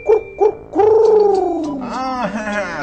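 A person's voice imitates the cooing call of a spotted dove, two short hoots followed by a long drawn, wavering coo, close and clear with no other sound.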